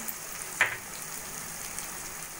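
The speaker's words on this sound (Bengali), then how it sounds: "আদা রসুন বাটা দিয়ে ভালো করে মশলাটা কষিয়ে নেব" Onion fried golden, then sautéed with salt, turmeric, cumin and chili powder while making a jackfruit curry, gives a soft, steady sizzle, faint and close, with one brief scrape of a spoon.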